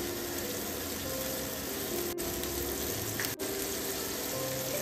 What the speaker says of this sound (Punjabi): ਤਾਂ ਪਿਆਜ਼ ਆ ਜਿਹੜੇ ਜੀ ਆਪਾਂ ਥੋੜ੍ਹੇ ਜਿਹੇ ਭੁੰਨ ਲੈਣੇ ਆ